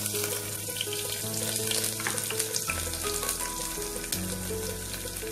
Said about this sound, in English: I'll add potato and beetroot into it.